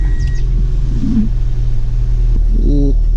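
Toyota Echo with 137,000 miles and a weak battery, its engine running as a loud steady low rumble close by, with a brief higher tonal change near the end.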